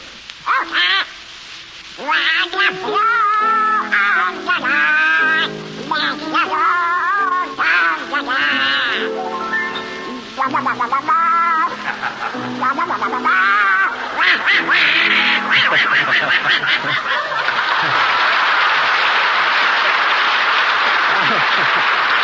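Donald Duck's squawking, quacking cartoon voice sings loudly and continuously in a 1936 radio broadcast, a voice imitating a duck, with a dense noisy burst near the end like applause.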